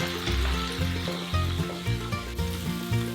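Rice noodles (chow fun) hit a hot wok with bok choy, giving a steady moderate sizzle of stir-frying that runs through the clip beneath a tonal musical backing.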